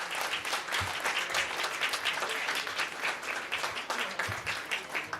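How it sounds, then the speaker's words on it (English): Audience applause at a live event, a sustained, dense burst of clapping from a crowd that holds steady and fairly loud throughout, with no voices standing out. "Bigger round of applause"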